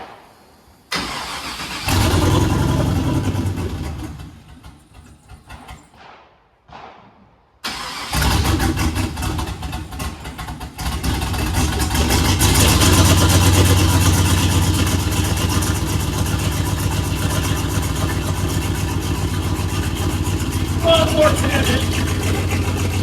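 A fuel-injected engine cranks and catches after a quiet pause, then settles into a loud, steady run with revving close by, while people talk over it.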